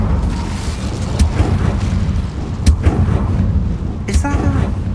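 An Incendio fire spell is cast in Hogwarts Legacy, sending out repeated bursts of whooshing flame and booming impacts over a rumbling background, close and loud.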